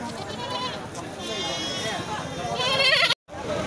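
Goats bleat repeatedly in wavering cries at the weekly Tuesday sheep and goat market in the Kadiri market yard, mixed into a steady din of crowd chatter and people talking nearby.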